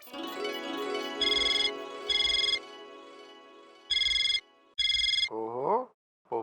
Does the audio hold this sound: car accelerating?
no